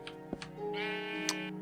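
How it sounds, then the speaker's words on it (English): A sheep bleats once in the game Minecraft, a clear wavering cry in the middle of the clip, with soft clicks around it. "Indeed, sheep."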